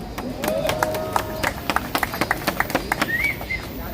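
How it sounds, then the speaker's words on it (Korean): An audience at a Korean public gathering claps in a quick rhythmic unison of sharp, evenly spaced claps, moderately close. Some faint crowd voices and tonal sounds are mixed in underneath. "민경우 전 의원님께 다시 한번 뜨거운 박수 부탁드립니다."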